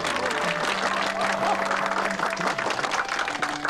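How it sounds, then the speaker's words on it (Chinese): Steady applause from villagers welcoming Secretary Mei to an evening fireside community gathering, a dense, even wash of clapping at moderate level, with a faint tonal hum running underneath. "咱们鼓掌表示欢迎啊"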